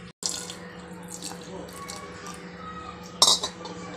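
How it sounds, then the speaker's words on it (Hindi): Water pours from a vessel into simmering mutton masala in a cooking pot, a soft trickling stream under faint background hum, ending in a brief louder splash and clink. "अब हम इसमें थोड़ा पानी डाल के इसको बॉईल करेंगे।"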